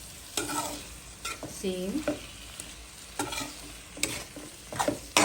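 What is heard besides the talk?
stir-frying vegetables in a pan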